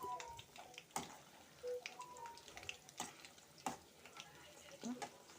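Corn vadas cooking in oil in a pan while being gently stirred, with a soft steady sizzle, scattered spoon scrapes and clinks, and a few brief voiced sounds in the background.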